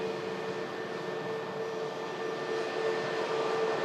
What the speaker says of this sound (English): this aircraft that's just coming to taxi out